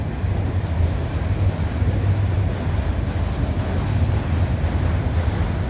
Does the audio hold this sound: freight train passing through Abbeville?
yes